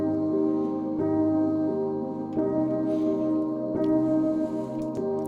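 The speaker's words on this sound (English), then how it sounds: "that's basically the melodic parts, and together they just sound like this." Layered melodic parts of a drum and bass track, with piano chords over sustained pads, change every second or so in a smooth, steady loop, moderately loud and close with no voices.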